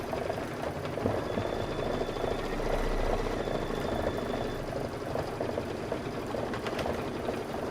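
A sewing machine runs steadily and close by, stitching a table topper in one continuous mechanical whir with fine rapid chatter. It hums without pause for the whole stretch, with no voices over it.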